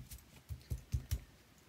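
A few quick papery riffles and soft clicks as tarot cards are shuffled, five short bursts in a loose rhythm, close and fairly quiet with no voices.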